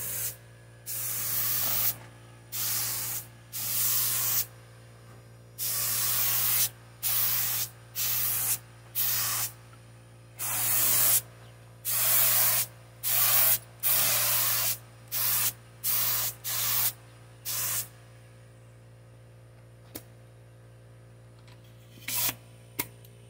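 Spray gun painting a 1997 Dodge Neon in multiple colors, a series of hissing bursts of varying length with short pauses, steady and close over a constant low hum, thinning out toward the end.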